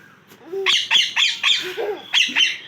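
A pet parrot squawks in a quick series of about seven loud, close, harsh calls, each short and sharply pitched, with no talking.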